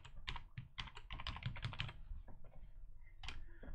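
Rapid typing on a computer keyboard while entering a new variable into a spreadsheet query editor, a dense run of close, clattering key clicks with brief pauses and a final burst, with no talking.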